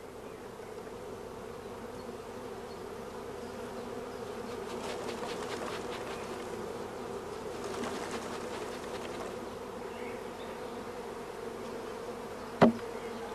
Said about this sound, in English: we brush the young bees off several frames of brood